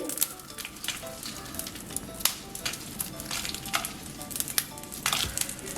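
Chana dal, urad dal and broken dried red chillies roasting in a pan for pumpkin chutney, giving a steady close sizzle and crackle with scraping stirs and small clicks of lentils shifting.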